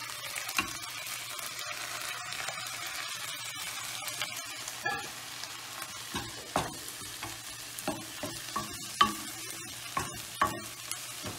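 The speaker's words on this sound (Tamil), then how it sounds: "இப்போ அடுத்து நம்ம அதில் தக்காளி போட போகிறோம்." Tomatoes frying with golden-brown onions in a pan for moth bean sprout masala: a steady close sizzle with repeated scraping stir strokes, no talk.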